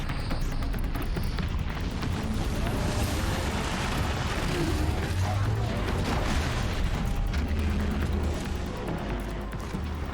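The Demonic Rockbreaker, a burrowing machine creature in the game Horizon Zero Dawn, churns out a continuous heavy rumble with deep booming surges, loud and unbroken throughout.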